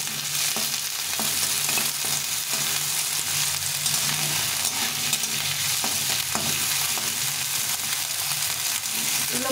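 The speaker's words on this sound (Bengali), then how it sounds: "আর সবশেষে দিয়ে দেবো ক্যাপসিকাম। এগুলোকে ভালো করে একটু ভেজে নেব।" Vegetables and capsicum frying in a pan for a vegetable pulao made with Gobindobhog rice, a continuous close sizzle broken by frequent scraping and stirring strokes.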